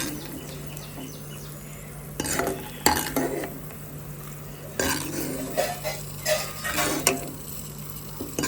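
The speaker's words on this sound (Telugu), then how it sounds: "సాల్ట్ వేయాలి, పోపు పెట్టుకోవాలి" Tempering for peanut chutney: bursts of sizzling as spices hit hot oil, with scattered clinks of a spoon against the pan over a steady low hum; no talking.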